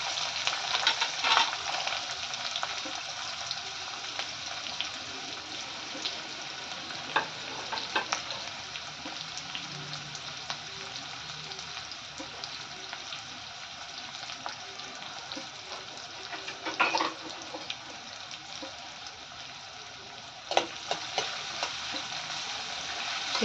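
Onion and garlic fry in a pan for a sprouted mung bean curry, a steady close sizzle with occasional stirring scrapes and small spatters throughout, no voices.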